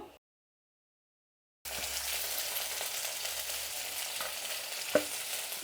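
After a brief silence, whole masala spices start frying in oil in a kadai, a steady close sizzle with light crackles and one sharp clink of utensil against the pan.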